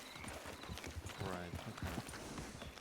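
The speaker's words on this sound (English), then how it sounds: "Is this the horse they were on?" Horse walking in a Red Dead roleplay game on WildRP, clear rhythmic clip-clop of hooves, close and steady, with people talking over it.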